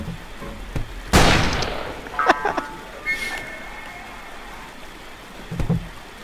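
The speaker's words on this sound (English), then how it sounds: "I see gunfire." A loud sharp shot in the video game Fistful of Frags, followed by a few scattered, fainter bursts and metallic pings, spaced irregularly over a quiet background.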